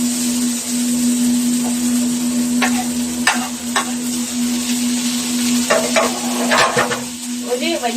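Tomato and onion fry in a pan with a steady, close sizzle, broken by a few scraping stirs and a constant low hum underneath.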